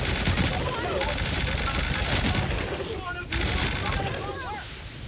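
Gunfire from a weapon in the video game The Outer Worlds, sustained dense bursts over a busy mix with a brief gap, loud and continuous throughout.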